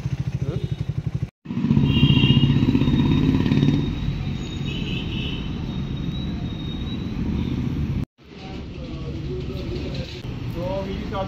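Motorcycles including Royal Enfield, Triumph and other 400cc bikes gather for a group ride, their engines rumbling loudly and steadily, with brief gaps and talk over the noise.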